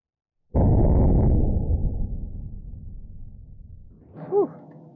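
A single loud, close gunshot from a Turkish-made Gewehr 98 bolt-action rifle: a sharp blast that decays into a long rumbling echo, then a brief faint voiced exclamation near the end.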